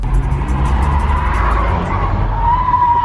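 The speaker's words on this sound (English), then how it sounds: "Try and do a wheel spin with that." A rental car spins its wheels with the handbrake on, tires skidding and squealing in a steady, loud whine over a continuous engine roar, close by, no talk.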